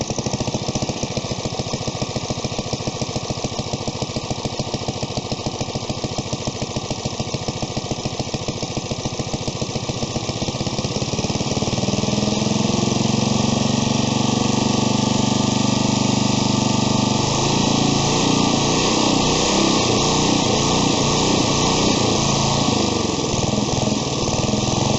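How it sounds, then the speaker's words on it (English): An old tractor engine idles steadily after a carburetor cleaning, a continuous mid-pitched mechanical chug that grows rougher and louder partway through, heard close with no talking. "I was able to actually get this thing kind of idling and getting the gas working here"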